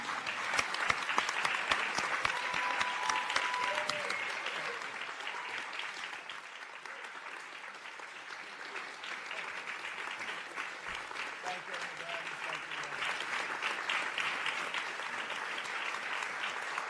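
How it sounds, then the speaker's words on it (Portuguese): An audience at an official event applauds President Trump, a long, even roll of many hands clapping at moderate level, with faint voices underneath and no break from start to finish. "Vamos todos aplaudir o presidente Trump."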